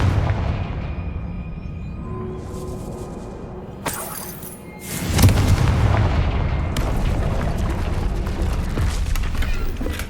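Confringo, a blasting spell in the video game Hogwarts Legacy, goes off as a sudden loud explosive burst, followed by a dense crashing, debris-filled roar that lingers for several seconds.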